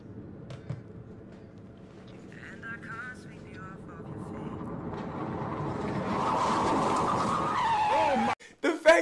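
A car engine roars and builds with tire skidding noise, ending in a few abrupt loud bangs like a crash.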